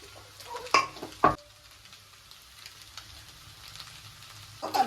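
Egg noodles stir-fried with masala and chili sauce in a pan, a low steady sizzle broken by two sharp scraping stirs of the spatula and a third near the end.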